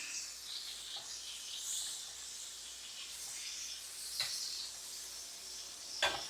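Sausages sizzling in butter in a frying pan, a steady soft hiss and crackle with a couple of sharper pops near the end; no talking.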